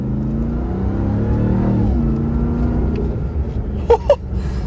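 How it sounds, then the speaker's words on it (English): A Ram TRX pickup's supercharged engine revs up with a rising whine over a deep rumble, then settles to idle, followed by a couple of short clicks. "Nothing like a supercharger whine."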